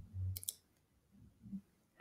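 A computer mouse clicks on an on-screen button: a couple of sharp, close, quiet clicks in quick succession near the start, with a faint low murmur around them.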